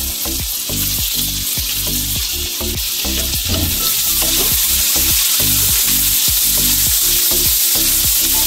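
Carrots and potatoes frying in oil and ghee in a pan, a loud steady sizzle with repeated stirring scrapes and clinks in a regular rhythm throughout, no voices.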